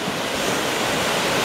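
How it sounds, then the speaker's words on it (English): Pacific Ocean surf washing against a lava rock shore near Wailua, a loud, steady broadband roar of breaking waves mixed with wind buffeting the microphone, no voices. "Welcome to the Pacific Ocean."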